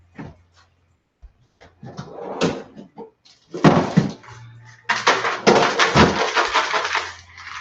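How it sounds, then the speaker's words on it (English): Frozen vegetables such as edamame beans tumbling out of a Freezer Mates plastic container, a run of hard clattering rattles and knocks building into dense bursts, close and fairly loud with no talk. "this is the sound of vegetables coming out of your freezer when they're in Freezer Mates"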